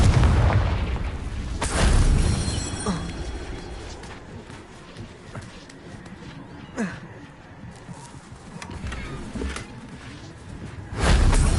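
A Confringo blasting spell in Hogwarts Legacy: several booming blasts spread through a quieter game soundscape, the loudest near the start and end, with low rumble and scattered sharp pops between them.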